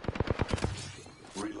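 Rapid automatic gunfire in a battle royale shooter, a quick burst of about eight close, sharp shots in even rhythm, followed by a brief pause and a short mechanical rattle.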